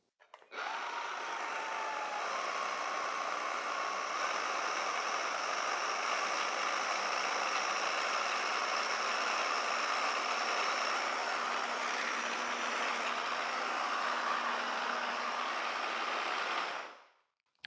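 The motor of a Parkside PUSA B1 battery-powered fertilizer and lawn seed spreader runs unloaded at a steady, smooth whir. It holds an even, moderately quiet hum for about sixteen seconds before cutting off.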